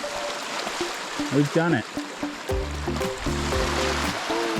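Flowing water at the confluence of the Escalante River and Death Hollow stream, a steady broadband rush under a voice speaking briefly.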